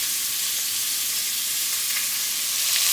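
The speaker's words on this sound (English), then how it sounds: "my vegetables are sautéing" Vegetables for butternut squash soup sizzle steadily in a pot, a bright continuous hiss of frying that stays close and even throughout, with no talking.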